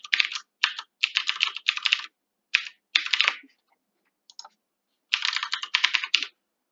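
Computer keyboard typed to sign in, bursts of rapid close clicking keystrokes separated by short pauses, with a final flurry after a longer gap.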